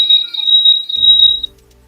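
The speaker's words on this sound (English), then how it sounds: "fix your smoke detector, man. Well, you can hear that." A smoke detector gives a sustained high-pitched electronic beep for about a second and a half, loud and close, then falls silent while faint low background noise continues.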